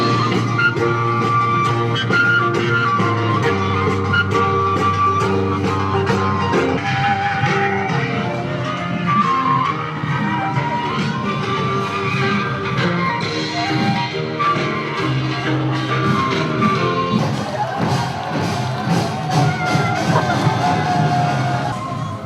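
Crowd cheering, whooping and shouting as children arrive in a Buddhist lantern parade, a dense, loud, continuous roar with high children's voices and music running underneath.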